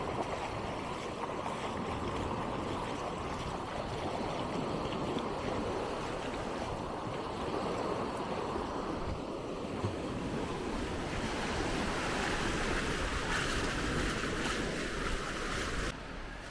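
Ocean surf rolls onto the beach at Maspalomas, Gran Canaria, a steady, close wash of breaking waves that never lets up, with some wind buffeting the microphone.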